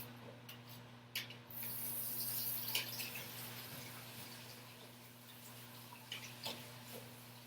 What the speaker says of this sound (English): Back to rinsing my pasta.